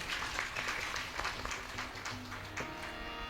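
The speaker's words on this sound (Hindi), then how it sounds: "वाह, अपने लिए एक बार ताली बजा लो आप लोग।" An audience at a Ram katha gathering claps together, a dense burst of applause that thins and tapers off over a few seconds, with no speech over it.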